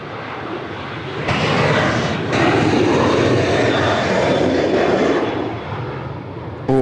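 A Velocity 916 airliner lands on runway 34 left at Sydney Airport, its engines swelling into a loud, broad roar that holds steady and then eases off slightly as it passes nearby.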